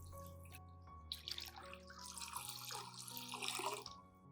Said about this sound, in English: add 1 liter of clean room temperature water to dilute the solution